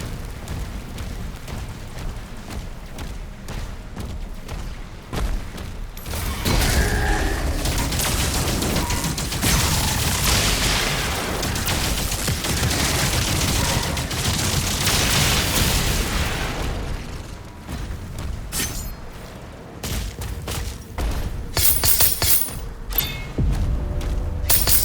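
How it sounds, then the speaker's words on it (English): Heavy cannon fire booms during a siege in DOOM: The Dark Ages, a loud sustained barrage of blasts and rumbling impacts filling the middle of the stretch, with quieter mechanical game noise before and after. "That's our first cannon."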